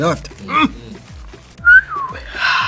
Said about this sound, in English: This is the first time I whistled for the whole interview.